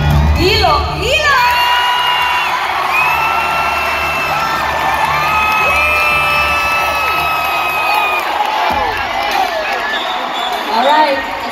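Loud crowd cheers and screams at the Miss Universe Philippines 2024 pageant, with whoops and high shouts rising and falling continuously while a voice talks faintly underneath.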